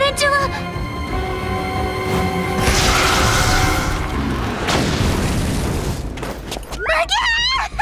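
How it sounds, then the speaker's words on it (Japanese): Heavy, booming blasts as ice and fire breath collide in a steam explosion in Princess Connect! Re:Dive, with rumbling debris and layered effects under voices. "氷と炎のブレスがぶつかって水蒸気爆発でも起きたってわけ"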